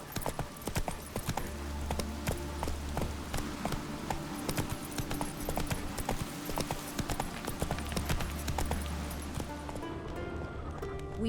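Geralt's horse Roach galloping in the game The Witcher 3, rapid rhythmic hoofbeats pounding steadily throughout, close and prominent over a low background hum.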